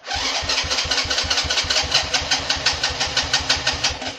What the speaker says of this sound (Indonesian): saya hidupin, sama aja di engkol juga nggak bakalan bisa ya